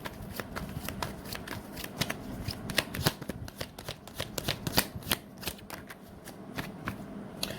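Tarot cards being riffled and shuffled by hand, close up, giving a rapid irregular patter of soft paper slaps and snaps that runs without a break and with no talking.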